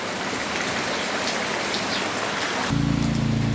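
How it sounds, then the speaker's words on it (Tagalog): Heavy rain pouring down in Negros, a dense, steady hiss of drops on surfaces that carries on unbroken, joined near the end by a louder low hum. "ang lakas ng ulan"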